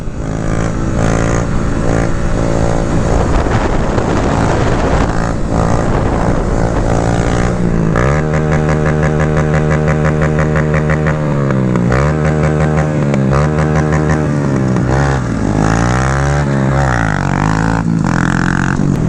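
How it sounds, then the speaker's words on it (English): Mini bikes ridden through a residential neighborhood, with several small engines droning loudly and steadily throughout, their pitch rising and falling as the riders rev and shift. "We're riding mini bikes, we're having fun."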